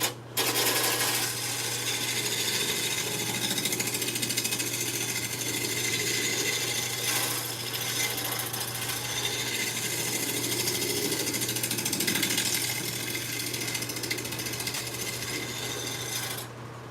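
Tool smoothing the top of a spinning wooden bowl on a woodturning lathe, a steady loud motor hum beneath continuous scraping and rasping, close and unbroken for the whole stretch.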